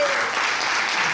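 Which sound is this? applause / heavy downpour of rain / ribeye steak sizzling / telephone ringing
applause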